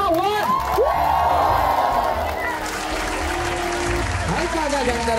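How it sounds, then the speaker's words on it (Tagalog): An audience cheers, whoops and shouts over continuous applause as a performance begins, a loud, lively crowd with a presenter's voice cutting through at moments. "palakpakan may kasamang sigawan"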